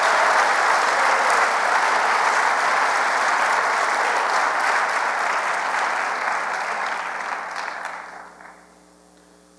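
A chapel audience applauds academic honorees at a ceremony: steady, full applause from a large crowd holds for most of the stretch, then thins and dies away near the end.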